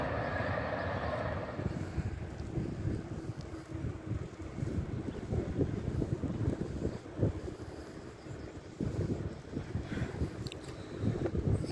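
Strong wind buffets the microphone while someone cycles along the Danube riverbank, a continuous roaring rush with gusty fluctuations and no talking.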